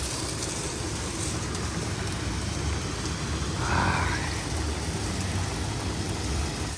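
Rain falls outdoors as a steady, broadband patter and hiss that holds even throughout, with a faint brief swell midway and no voices.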